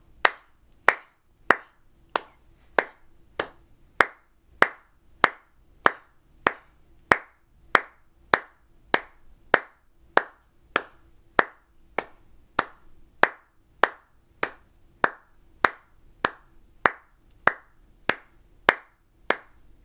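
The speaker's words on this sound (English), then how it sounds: "I'll do the clapping part with repeats" Steady hand claps keep a regular beat as the rhythm part of a beginner flute duet exercise, about thirty sharp, evenly spaced claps close up with no talking.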